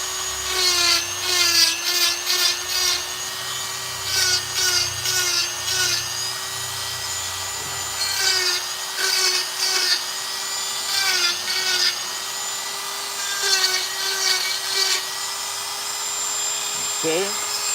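Dremel rotary tool with a Kutzall burr power carving a wood figure outdoors, a steady high whine that bites and stutters in short bursts as it cuts, continuous and close.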